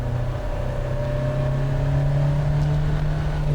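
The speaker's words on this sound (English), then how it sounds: "You feel the delay as the turbo comes on, then there's that big surge." Steady engine drone with a strong sustained tone from a turbocharged car on a race circuit, such as a Sierra Cosworth or Audi Quattro from 1989, heard from inside and holding a constant pitch with no talking.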